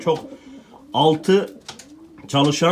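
Bordo Bereli tumbler pigeons from the Netherlands coo softly in a loft, low throaty calls weaving between bursts of someone talking nearby.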